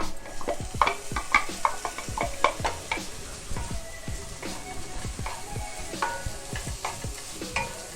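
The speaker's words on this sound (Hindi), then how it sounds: "इसी तरह से फ्राई करते रहिएगा।" Chopped onions and crushed spices fry in a hot pan for a spicy samosa filling, a steady close sizzle broken by frequent spoon scrapes and taps from constant stirring.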